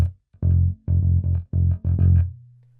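A 5-string electric bass plays a gospel-funk groove: a handful of deep, punchy plucked phrases with short syncopated runs, close and loud with no voice, ending on a sustained low note that fades out.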